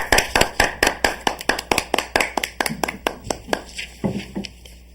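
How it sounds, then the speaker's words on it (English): A Toastmasters audience welcomes a speaker with clapping: sharp, crisp claps in a steady, evenly spaced rhythm that thins out near the end as a voice begins. "Please welcome, with a big round of applause"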